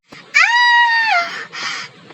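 A woman lets out a sharp, high scream of pain after a scorpion sting, one loud sustained cry followed by a shorter, weaker wail.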